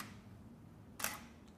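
A DSLR camera shutter fires once at a one-second exposure, a sharp close click with a second fainter click about half a second later, in a quiet room.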